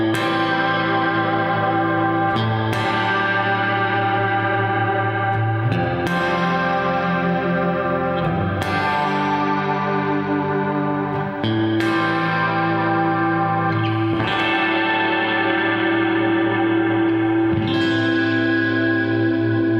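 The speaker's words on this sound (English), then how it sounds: "It gives a kind of a wobble to the reverb." Guitar notes played through heavy reverb with a wavering, wobbling shimmer. Chords ring out and die away every few seconds, with no voices.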